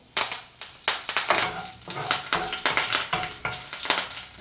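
Cumin seeds and curry leaves sizzle and spatter in hot oil in a pan for a soya chunk gravy, a loud crackling fry with sharp bursts and stirring scrapes, close up and without talk.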